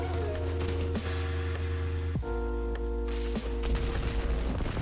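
Gunfire from a weapon in the video game Destiny 2, a steady run of loud shots layered over a constant tonal game soundtrack, with a sharp burst near the middle and another later on.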